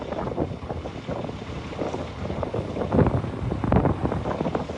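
Strong wind roars and buffets steadily, with gusts swelling louder partway through; no voices.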